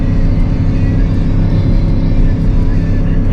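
A 24-year-old 8.1-liter gas V8 holds steady at about 4,000 RPM while towing 18,000 pounds up a mountain pass, giving a loud, continuous, deep droning roar with little variation throughout.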